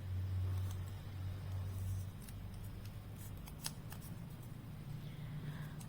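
Scissors snipping through masking tape for a craft plantain leaf, a run of crisp close cuts over a steady low rumble.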